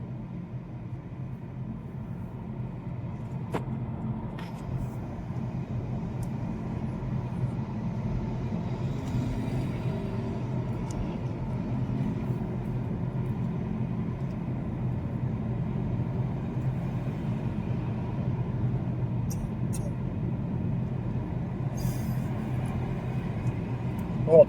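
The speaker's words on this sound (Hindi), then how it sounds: "बहुत रश है, ट्रैफिक, कारें इतनी ज़्यादा हैं" Steady rumble of heavy car traffic on a Sunday in central Paris, heard from inside a car on a road trip, a continuous low drone of engines and road noise.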